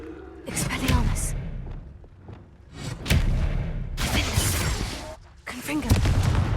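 A spell is cast in the Hogwarts Legacy video game, with whooshing magical bursts and thumping impacts over a loud, busy combat soundscape. Brief spoken voices come and go between the effects.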